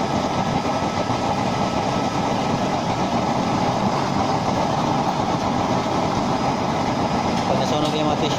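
DIY air nozzle burner fed with waste oil, built like a traditional gas burner, roars steadily and loud from start to finish, a dense continuous blast of flame noise with no pauses.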